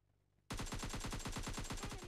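Rapid automatic gunfire from PUBG Lite bursts in suddenly after a moment of quiet, a loud, evenly spaced stream of shots continuing without pause.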